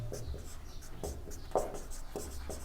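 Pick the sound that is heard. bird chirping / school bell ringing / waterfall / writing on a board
writing on a board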